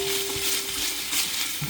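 Onions and garlic sauté in a pan for collard greens, a steady close hiss of frying with soft stirring scrapes and a faint tonal hum running underneath, no voices.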